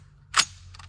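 A single sharp report from a CMMG Dissent MK47 rifle fired with a Magpul P-Mag, one loud close crack followed by a faint short echo.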